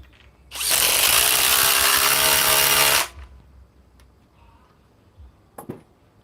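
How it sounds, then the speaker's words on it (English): Ridgid R862312 cordless impact wrench on a 3 amp Octane battery running in one loud, steady burst of about two and a half seconds, followed by quiet handling clicks. "let's run the rigid R862312 with a 3 amp octane battery"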